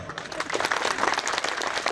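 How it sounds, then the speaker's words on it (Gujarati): An audience applauding at a public event about a municipal drainage line, a dense steady patter of many hands clapping together for two seconds. "કરો છો એટલે તાળીઓ પાડવાય"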